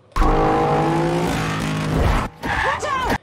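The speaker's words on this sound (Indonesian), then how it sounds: "Adegan balap mobil saling berpacu di sini sana" Roaring car engines rev hard in a car chase from the film 6 Underground, a vehicle tearing past with rising whine, then a short gap before tires squeal and engines scream again.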